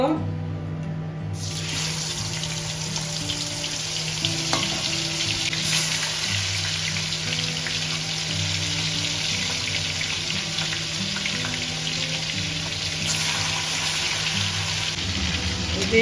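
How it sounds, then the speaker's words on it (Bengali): Pieces of chicken fry in hot oil with a little butter for methi chicken, making a steady, loud, close hiss that runs evenly throughout without talk. "তেলটা গরম হয়ে গেছে আর এখানে দশ মিনিট হয়ে গেছে মাংসটা এখন আমি ভেজে নেব"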